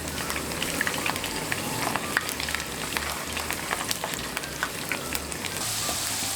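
French fries sizzle in a small amount of oil in a pan, a dense, steady crackling and spitting with scattered sharper pops, close and continuous with no talking.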